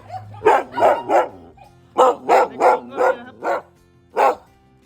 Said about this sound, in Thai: นี่ ก็มาดูน้องหมา เห่าอีกแล้ว เห่าทักทายนะ